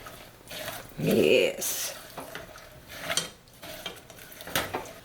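A utensil scrapes and clinks against a bowl as almonds are stirred into a honey mixture to coat them, with one loud clattering stir and then softer scraping, while a person speaks briefly.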